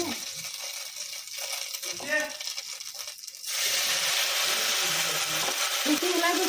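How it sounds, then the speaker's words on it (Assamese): Pieces of meat fry in hot oil for chowmein, a dense, steady sizzle that surges in halfway through and keeps going, with brief voice-like sounds just before it begins. "তাই এতিয়া তেলত ভাজিব"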